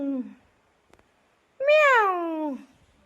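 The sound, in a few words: cat meowing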